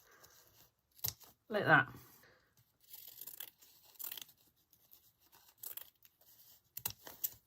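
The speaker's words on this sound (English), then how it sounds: "Fold your ribbon in half and put your metal end away from your scissors and cut down towards your scissors" Sharp scissors snip through a length of ribbon folded in half while making a Christmas decoration. One short, crisp cutting burst comes early, followed by faint rustling handling noises, with a person talking nearby.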